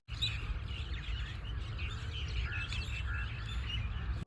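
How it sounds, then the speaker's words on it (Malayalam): Many birds chirp and tweet at sunset, a lively chorus of overlapping calls at moderate distance over a low background rumble, continuous throughout. "ഈ നേരത്ത് ഇവിടെ ഒരുപാട് പക്ഷികളൊക്കെ ഉണ്ട് കേട്ടോ. കൂടെ പക്ഷികളെ നല്ല സൗണ്ടും ഉണ്ട്."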